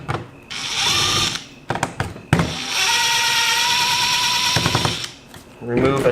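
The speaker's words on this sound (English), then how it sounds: "Remove a ton of screws" Screws being driven out of a Dell XPS L702X laptop during a teardown, with a power screwdriver whirring in two sustained bursts separated by short clicks and handling noises, close and loud.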